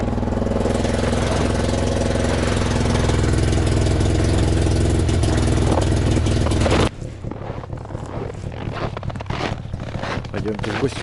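Engine running loud and steady at idle for several seconds, then abruptly falling away, leaving quieter, uneven noise for the rest.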